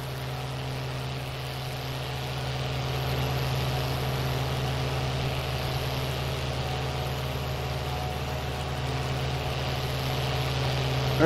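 A farm tractor used for planting and seeding sits idling alone, a steady, even low drone with a constant hum throughout.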